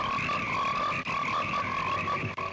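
Dense chorus of frogs croaking continuously, a loud layered drone of many overlapping calls with no voices.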